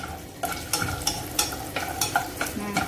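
Raisins sizzling with cashews in a pan for semiya payasam, steady frying hiss broken by regular stirring scrapes about every third of a second.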